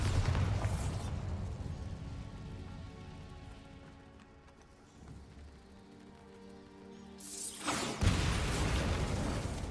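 Bombarda blasting spell in the Hogwarts Legacy video game erupts in a heavy, rumbling explosion, followed by a quieter stretch and then another loud burst near the end.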